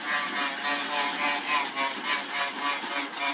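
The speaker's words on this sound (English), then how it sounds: "I wonder what that sound is. That must be coming from the motor." A toy train set motor runs with a steady, even whirring hum that pulses slightly in rhythm, close and continuous with no talk.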